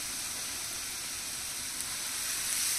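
Chopped garlic sizzling in butter in a pan over a medium flame: a steady, close, bright frying hiss with faint crackles throughout, no speech.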